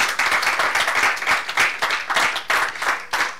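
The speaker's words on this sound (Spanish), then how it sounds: "Denle un aplauso al Señor si usted cree eso." Church congregation applauding during a sermon, close lively clapping in uneven surging bursts, loud and continuous.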